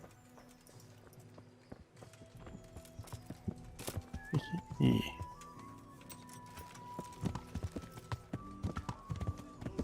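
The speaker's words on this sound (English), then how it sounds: "I'll grab my horse." Horse hooves clip-clop in Kingdom Come: Deliverance, a faint irregular clatter through a busy medieval town, with scattered footsteps and background bustle, a brief whinny and someone speaking over it.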